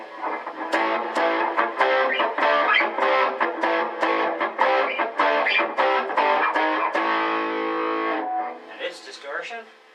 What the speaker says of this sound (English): And it's overdrive.